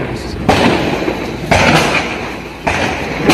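Three loud, sharp gunshots ring out a second or so apart during a bank robbery in Cametá, Brazil, each followed by a lingering echo, with a noisy background throughout.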